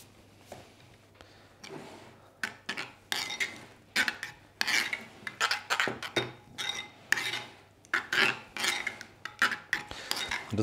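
Fresh parsley chopped roughly with a knife on a board, a series of close crisp taps and scraping strokes in uneven bursts, with no talking.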